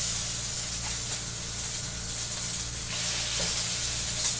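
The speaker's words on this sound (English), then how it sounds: "I'm going to put the fillets in and start searing the fillets." Salmon fillets sear in a hot pan, giving a loud, steady, close sizzle and spitting hiss that runs unbroken the whole time with no voices.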